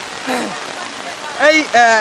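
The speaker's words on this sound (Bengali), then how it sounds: "এই গ্রীষ্মের রোদ্রে হঠাৎ নেমে এলো এক বর্ষ বৃষ্টি" Sudden summer rain falls over a Bengali village, a steady close hiss of drops that runs through the whole stretch while voices call out above it.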